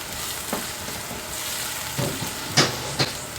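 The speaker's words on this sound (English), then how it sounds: "And I'm just going to stir fry this." Bell peppers and scotch bonnet stir fry in a pan with a steady close sizzle, broken by a few sharper scrapes and clinks of stirring.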